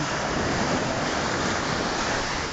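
Strong ocean waves at the beach make a continuous, loud roar of surf that fills the clip, mixed with heavy wind buffeting the microphone.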